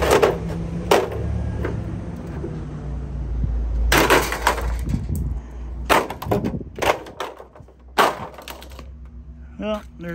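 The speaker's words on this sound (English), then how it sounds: "There's a cheap display stand. Broke right in half." Cheap plastic monitor display stand from a Samsung monitor being broken apart: a run of sharp cracks, snaps and clatters in uneven clusters, loud and close, between quieter handling noise.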